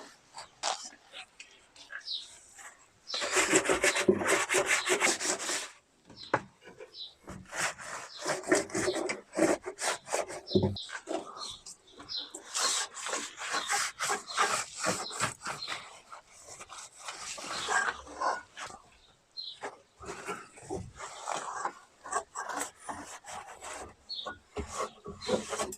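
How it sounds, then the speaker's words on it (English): A wet cloth rubs and scrubs across grimy interior trim in a Mitsubishi Legnum, in close, uneven bursts of wiping with brief pauses. "I'm going to get a bucket of water and a cloth and just like actually wash everything I can sort of get to"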